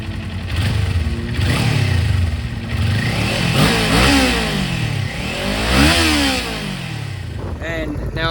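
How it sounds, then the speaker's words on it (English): A 2022 Kawasaki Ninja 400 motorcycle with its stock exhaust revs up repeatedly, rising and falling through several throttle blips, loud and close, with a person speaking briefly near the end. "Here is with the stock exhaust."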